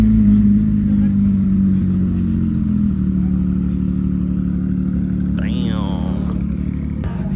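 A twin-turbo C6 Corvette engine rumbles and revs steadily at a cars-and-coffee meet, loud and close, with a short whine near the end.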